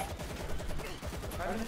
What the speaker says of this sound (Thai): ป้อมมันยิงเรานะ